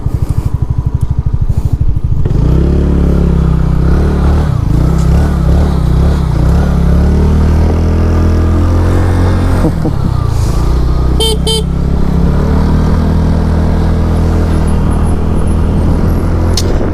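A 2025 TVS Ntorq 150 scooter engine runs on a test ride, a loud close buzzing drone that rises and falls in pitch with the throttle, with a few brief sharp tones near the end.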